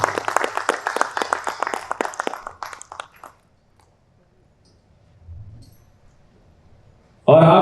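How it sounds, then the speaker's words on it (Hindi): Audience at a Hindi theatre play applauds loudly with dense, rapid clapping that fades out after about three seconds, followed by quiet and a low rumble, then a sudden loud burst at the very end. "हमारे आदरणीय वरिष्ठ रंगकर्मी सुमन कुमार, इनके लिए जोरदार ताली हो जाए"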